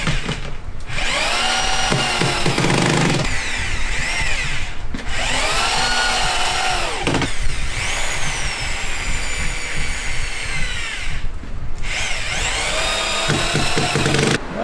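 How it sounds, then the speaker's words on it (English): A power drill drives screws to fasten a workbench to a shop wall, its motor whining loud and close in repeated runs of a few seconds each, rising and falling as each screw seats. "Go ahead and run some screws in here. Get this fastened to the wall,"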